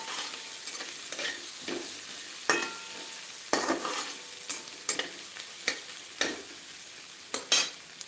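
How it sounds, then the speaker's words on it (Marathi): Chopped onion sautéed in a pan until reddish, with a continuous crackling sizzle broken by repeated scraping and knocking strokes as it is stirred. "आता कांदा घ्यायचा आहे परतून छान अगदी लालसर रंग येईपर्यंत कांदा हा परतून घ्यायचा"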